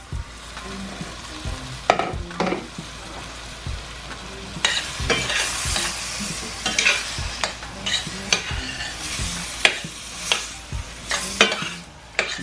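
Shrimp frying with red peppers and onions in a pan, a continuous sizzle punctuated by frequent loud scraping and clacking stirring strokes, close up and without any talking.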